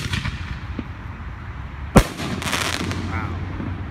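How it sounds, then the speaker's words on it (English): A canister shell firework goes off at a small pre-Fourth of July backyard display, giving a single sharp, loud burst halfway through, followed by crackling fizz, with a faint voice heard beforehand. "Canister shell going off."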